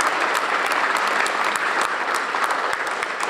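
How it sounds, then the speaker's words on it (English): An audience claps steadily and densely at a Buffalo film studio opening, the applause sustained at an even level throughout with no voices on top. "Let's give them a round of applause again."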